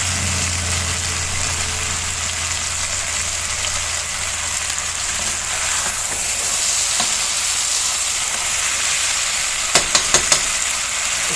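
Potatoes fry in a pan with a loud, steady sizzle while being turned over, with a few scraping clicks of a utensil near the end.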